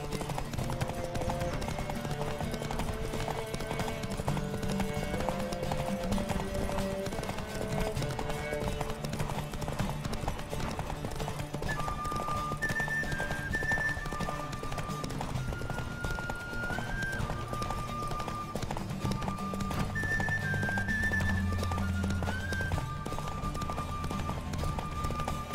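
Hooves of a galloping horse pound in a fast, steady clip-clop during a race in The Witcher 3, with game music running continuously beneath the rapid rhythm.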